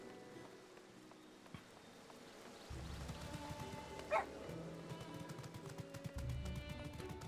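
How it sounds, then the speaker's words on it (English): A Shiba Inu dog barks once at mid-distance, a single sharp yip standing out over steady background game music and hum. "I appreciate your Shiba barking at me."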